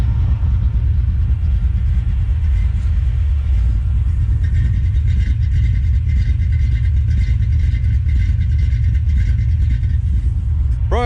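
An old Plymouth Duster engine idles after a cold start, a loud, close, steady low rumble with a slightly uneven lope that carries on throughout.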